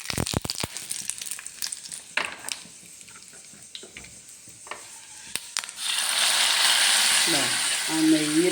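Curry leaves and dried chillies hit hot ghee for mango pulissery, starting with a few scraping clatters and then breaking into a loud, steady sizzle in the second half while someone talks.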